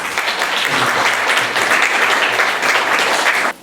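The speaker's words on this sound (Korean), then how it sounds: "박수 한번." A church congregation claps together at an ordination ceremony, a dense, steady burst of applause lasting a few seconds before cutting off abruptly.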